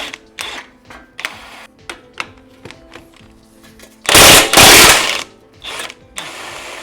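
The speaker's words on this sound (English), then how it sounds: "so we'll go ahead and just shoot this off with the impact" A DeWalt impact wrench removes the 19 mm axle nut on a Lexus GX470 during CV axle replacement: close ratcheting clicks, then a loud sustained burst of hammering, then a few more clicks.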